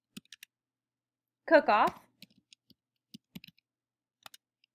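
Sparse, crisp clicks of typing on a computer keyboard, single taps and small clusters spread across a quiet background, broken once by a brief spoken word.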